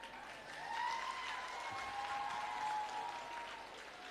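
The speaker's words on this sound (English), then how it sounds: "There we go, I hear their applause." An audience applauding at a reunion event, a steady wash of clapping heard from a distance and fairly faint, holding evenly throughout with no talk.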